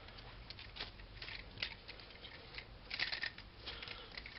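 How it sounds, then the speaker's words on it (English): Small plastic joints of a Yamato 1/60 VF-1S toy model click and tick in quick irregular bursts, close and quiet, with a brief denser cluster of clicks near the end. "You can hear all those joints clicking."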